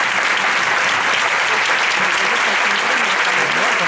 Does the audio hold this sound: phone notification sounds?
no